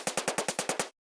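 A tinny, noisy drum sample for an indie game track fires eight quick even hits in under a second, bright and hissy, then cuts to silence.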